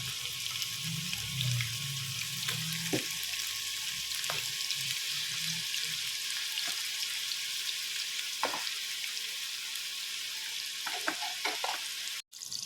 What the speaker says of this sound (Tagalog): ipiprito po muna natin ang ating mga patatas at carrots